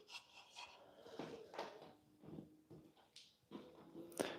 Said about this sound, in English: I gotta sand it pretty smooth.